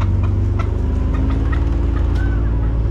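Turkeys gobbling and clucking on a Kona coffee plantation on Hawaii's Big Island, a loose run of repeated calls close by over a steady low background rumble.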